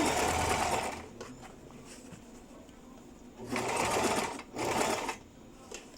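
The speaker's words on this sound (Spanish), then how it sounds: "cosemos a 1 centímetro siempre del borde como margen de costura" A sewing machine stitching a skirt seam with a 1 cm seam allowance, whirring steadily and close up, then pausing and starting again in two shorter runs.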